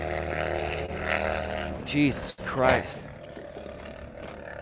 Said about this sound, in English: Sounds like a car without a muffler or loud exhaust.